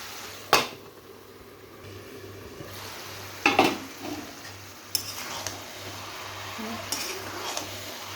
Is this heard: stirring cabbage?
yes